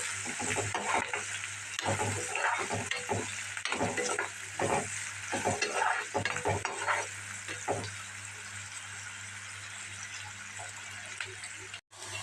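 Onion pieces and green chilies fry in oil with a continuous crackling sizzle and repeated stirring scrapes, while a voice talks over the cooking.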